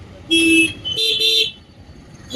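Two vehicle horn blasts in Rajkot traffic, heard from a motorcycle: a single long honk followed by a shorter double toot, loud and close over low traffic rumble.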